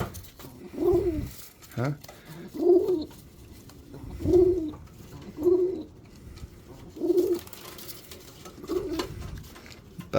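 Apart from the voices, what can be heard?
pigeons cooing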